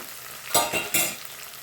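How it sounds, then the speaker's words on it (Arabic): A spoon stirs half a spoonful of sugar into a tomato sauce for koshari in a pot, two quick scraping, sizzling strokes close by over a low simmer, with no talking. "هنقلبهم كده زي ما انتوا شايفينهم كده اهو"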